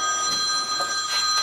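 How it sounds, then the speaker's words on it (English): A phone rings in a home kitchen during salt-baked red snapper preparation, its steady electronic ringtone trilling loudly and continuously in pulsed bursts with no talking over it. "my phone's ringing right in the middle of this video"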